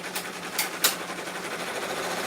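A sewing machine stitching satin stitch embroidery, a steady fast whirring with a few brief louder clicks near the start, close and even throughout.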